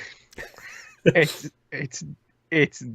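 A cat lets out a few short, separate meows in a quiet room, each one rising and then falling in pitch.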